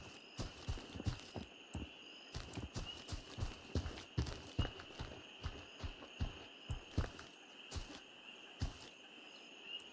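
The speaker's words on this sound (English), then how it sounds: "Like you hear your footsteps so much more," Footsteps of the player's own character in the video game Gray Zone, a steady run of crunchy, fairly close steps repeating across the whole stretch over a constant high insect-like ambient whine, with no talk.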